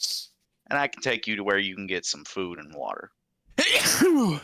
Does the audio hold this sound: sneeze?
yes